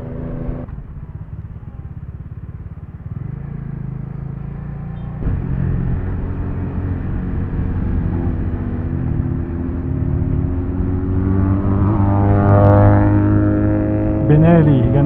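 A Benelli cruiser motorcycle rumbles past on the road with a deep, car-like engine note that builds louder toward the end, heard from a riding motorcycle amid steady wind and engine noise, with people talking.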